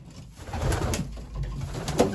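Racing pigeons coo softly and repeatedly at a loft at twilight, the low, throaty calls close and clear over faint background noise.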